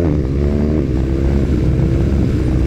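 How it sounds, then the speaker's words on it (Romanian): A BMW R 1250 R motorcycle shifting gears, its loud close engine note stepping through quick changes with rising harmonic bands, alone without talk. "Nu poți să zici că nu schimbă repede motoreta asta."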